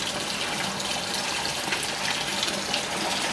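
Water flushes through a home aquaponics kit in a steady, close rushing stream that runs unbroken throughout.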